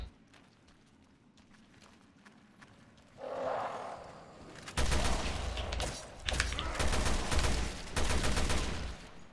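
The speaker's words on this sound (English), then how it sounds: "So, switch to the assault rifle." Assault rifle gunfire in Resident Evil Revelations 2 breaks out after a quiet start, turning into loud, dense bursts of rapid shots that run almost continuously through the second half.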